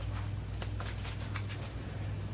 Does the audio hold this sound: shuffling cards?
yes